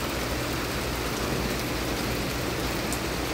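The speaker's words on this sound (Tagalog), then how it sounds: "Biglang lumakas ang ulan guys." Heavy rain pours down in a dense, steady roar that fills the whole moment, with no let-up and no voices over it.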